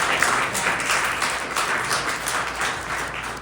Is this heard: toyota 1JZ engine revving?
no